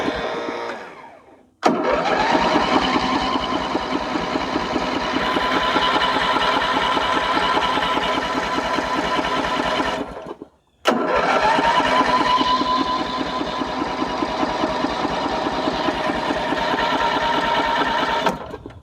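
An MTD riding mower's engine cranks with a fast, steady churning rhythm in two long attempts of about eight seconds each, separated by a brief pause, loud and close without ever catching.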